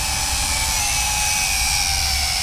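A Wltoys Q919A RC flying tank drone in flight, its rotors giving a steady, continuous high-pitched whine and buzz with a low rumble beneath, close and constant with no voices.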